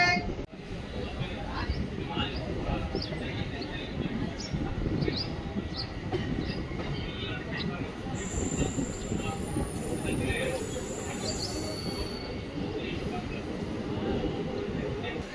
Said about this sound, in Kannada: ನಮ್ಮ ಟ್ರೈನ್ ಬಂದೈತ್ರಿ ಈಗ ಬಂಗಾರಪೇಟೆ ಜಂಕ್ಷನ್ಗೆ